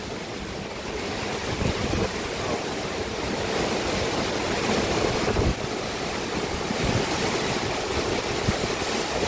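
Typhoon wind gusting hard with waves crashing on a shore, a loud continuous roar of surf and buffeting wind noise that swells and surges throughout, with no talk.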